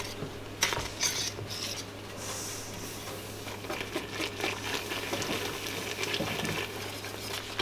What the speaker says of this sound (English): Whisking it in as I go to make sure it's smooth.